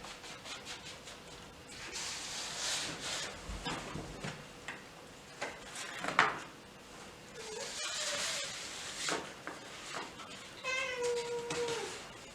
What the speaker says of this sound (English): Let me just sort the cat out.